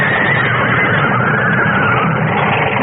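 Terrified coach horses neigh and whinny after a carriage crash in a radio drama. The sound is loud and continuous, with a layered, agitated noise that fills the whole moment and has no speech over it.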